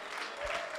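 Church congregation clapping together during a worship service, a steady wash of applause with a sustained tone and some voices mixed in.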